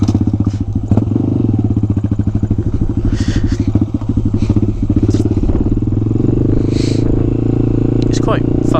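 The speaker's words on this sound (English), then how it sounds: "It's quite fun having a small bike" A small Honda Grom motorcycle rides along with a steady, close engine drone and rapid exhaust pulsing, rising slightly in pitch toward the end, with occasional clatter and knocks over the running engine.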